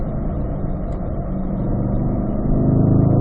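A C8 Corvette's engine drones loud and steady from close range as the car brakes and downshifts into a turn, its pitch shifting slightly near the end.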